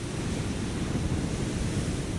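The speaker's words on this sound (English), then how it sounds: "Did you hear the ocean?" Ocean surf rolls in a steady, broad wash of breaking waves, soft and continuous with no voices.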